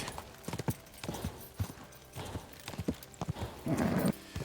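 Horse hooves clip-clopping at a hurried pace in Kingdom Come: Deliverance 2, a quick uneven run of loud close hoof strikes with a brief snort or whinny.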